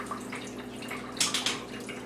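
A Keurig 2.0 coffee maker, faulty and pouring cold water without stopping, gives a quiet trickle and splash of liquid with a few brief louder spatters near the end, and no speech.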